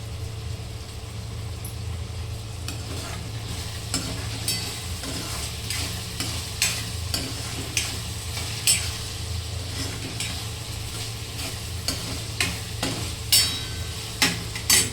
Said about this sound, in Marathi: आपल्या तेलात छान परतून घ्यायचं